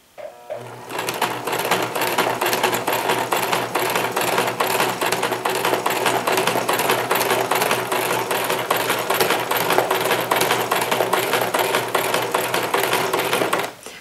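An embroidery sewing machine runs an overlock stitch, setting up a fast, even mechanical rattle of needle strokes. It starts after a brief pause, then carries on steadily and close at constant loudness.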